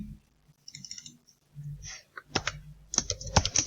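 Typing on a computer keyboard, bursts of light key clicks at close range, sparse at first and then quicker and louder toward the end, with no speech.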